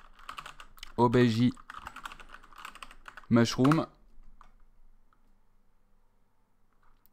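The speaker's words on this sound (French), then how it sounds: "C'est le retour de l'ASMR clavier" Rapid clicking keystrokes on a computer keyboard while working on a platformer game, a steady clatter of close taps that continues under two brief spoken bursts and trails off into sparser clicks.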